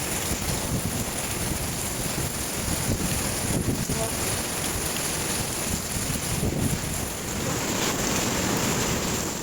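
Sea waves roll and surge in the rain at Puri, a broad roaring wash with rain hiss and some wind buffeting the microphone, steady and enveloping with slight swells in loudness.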